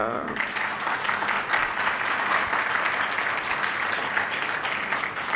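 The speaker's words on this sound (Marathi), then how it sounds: "मी कविता म्हणायला सुरुवात केली आणि तुम्ही टाळ्या वाजवायला सुरुवात केली" An audience at a poetry recital claps in a dense, sustained burst of applause that holds steady and loud throughout.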